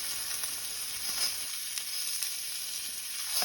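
Ribeye steak pan searing, a loud continuous hiss of hot fat sizzling that swells slightly near the end, heard alone without talk.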